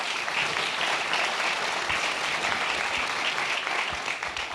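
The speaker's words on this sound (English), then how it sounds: "Round of applause for Rob." Steady, dense applause fills a hall as an audience welcomes a speaker on stage at a university panel on green infrastructure and cities; the sustained clapping stays full and even throughout, with no talking over it.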